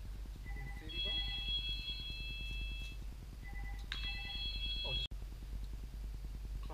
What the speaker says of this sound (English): We love it when the phone rings.